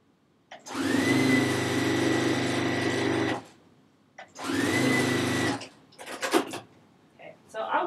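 Juki sewing machine stitching quilt sections at high speed, two long steady whirring runs of about three seconds each followed by short clicks and handling noises, close and loud.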